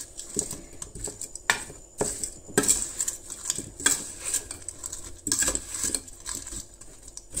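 Food being mixed by hand with oil and salt in a metal dish, giving soft, irregular clinks and scrapes against the bowl with intermittent patter, fairly close and moderate in level.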